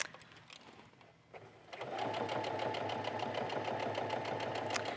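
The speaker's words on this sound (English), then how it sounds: "I'm just going to sew a little bit." After a quiet pause, a sewing machine starts and runs steadily nearby, its fast needle clatter humming on as it top stitches fabric with stretch thread.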